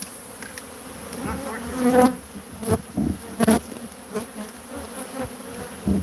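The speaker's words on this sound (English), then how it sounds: "Yeah, these are killer bees." A swarm of killer bees in Arizona buzzing loudly and close, a dense droning hum with swelling bursts as individual bees pass near.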